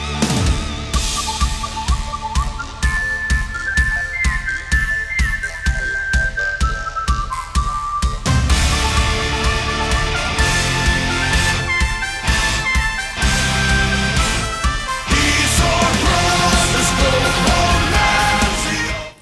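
A metal band song with a whistled melody over jaw harp twang, then heavy drums and distorted guitars crash in and carry a loud, dense full-band passage to the end.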